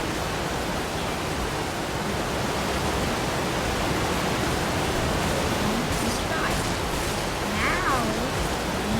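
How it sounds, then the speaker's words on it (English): Rushing waterfall in the Roblox game Build a Boat, a steady broadband roar of falling water held at an even level throughout, with faint voices briefly heard near the end. "It's gonna fall down from the waterfall."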